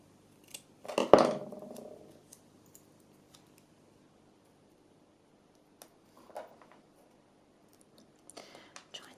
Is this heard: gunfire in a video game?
no